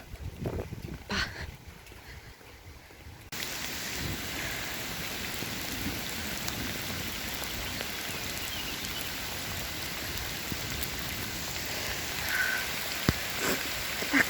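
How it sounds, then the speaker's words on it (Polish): Rain falls harder and harder during a storm, a faint start giving way to a dense, steady hiss that lasts to the end. "zaczyna coraz mocniej padać."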